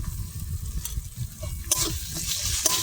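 Ginger-garlic paste, one and a half spoonfuls, hits a pan of fried onion and tomato seasoned with salt and turmeric. It sizzles and hisses steadily while being stirred, with a few sharper crackles and scrapes.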